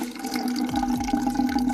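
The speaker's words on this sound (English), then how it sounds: "let's pour this Coke inside the flowers" Coca-Cola poured into a glass jar filled with flowers makes a steady, close liquid pour and fill, with rising gurgling tones as the jar fills, heard alone.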